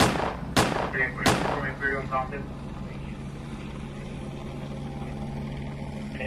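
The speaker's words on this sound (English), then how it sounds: "That sounds like a rifle to me." Two sharp, loud rifle shots ring out in quick succession at the end of a police chase, each with a booming tail, then a low steady drone hangs in the background.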